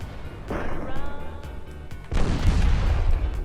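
Heavy naval guns firing in the warship game Ultimate Admirals: Dreadnoughts, with deep booming blasts and rumbling reverberation, a second louder salvo hitting midway and rolling on to the end.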